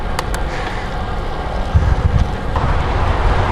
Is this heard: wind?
yes